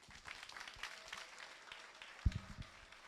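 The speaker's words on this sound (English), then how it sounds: "continue that applause, please, for the Amber Group" Applause from an audience at a graduation ceremony, a soft, steady patter of many hands that continues throughout, fairly distant and low in level, with a few louder, closer thumps near the end.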